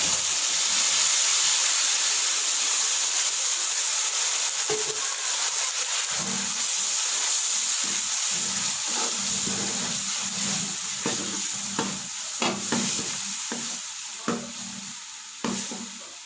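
Onions browned to light golden frying in a pot for beef paya, with tomato, chili, garlic and ginger paste added; a steady close sizzle and hiss runs throughout, broken by repeated scraping stirs and clanks growing more frequent toward the end.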